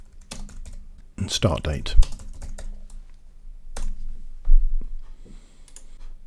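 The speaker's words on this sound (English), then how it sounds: "start typing in the primary key for the object" Bursts of computer keyboard typing while entering fields in data modeling software, quick clicking keystrokes in clusters with pauses, alongside someone talking.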